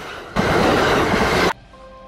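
A mountain train running on narrow rails roars past in a loud burst of wheel and rail noise lasting about a second, then cuts off abruptly into quieter background with a faint tone.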